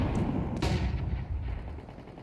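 Gunfire from a Counter-Strike esports match between NAVI and Astralis: a burst of loud shots with a sharp crack about a third of the way in, over dense continuous game noise that fades slightly toward the end.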